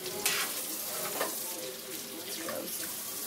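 A crab gets rinsed under a running kitchen tap, water splashing and hissing steadily with a few sharper spatters, close by.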